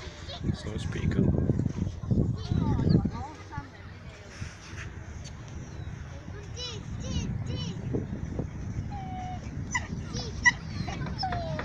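A pet dog at Cleveleys Beach whimpers and yips in short, high squeals scattered through the clip, heard under louder talk and wind at first, then more clearly over steady outdoor beach noise.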